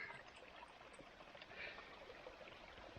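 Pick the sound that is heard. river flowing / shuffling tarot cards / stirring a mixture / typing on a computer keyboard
river flowing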